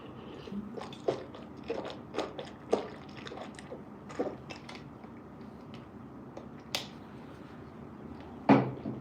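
Walnuts being chewed close to a microphone, irregular crunches and bites with wet mouth sounds, quiet between bursts and one louder crunch near the end.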